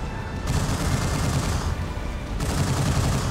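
Weapon shots from a mech in Mobile Suit Gundam: Crossfire, a Gouf Custom's gun firing in a steady, dense barrage of rapid, moderately loud bursts with brief gaps.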